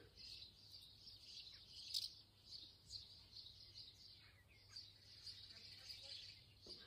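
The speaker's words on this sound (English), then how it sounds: "you might hear the sounds of the birds that have awakened" Faint morning bird chirps and tweets scattered over quiet background hiss, a distant, soft outdoor chorus with irregular calls.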